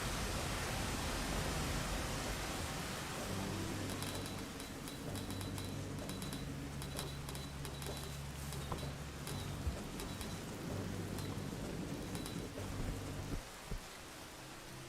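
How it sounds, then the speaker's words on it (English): Heavy rainstorm in the video game Rain World, a dense roaring wash of rain with low rumbling tones underneath, loud and continuous throughout, with a few scattered sharp ticks and no speech. "So the rain can be dangerous if it pushes you down really fast"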